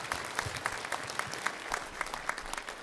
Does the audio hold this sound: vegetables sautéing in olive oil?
no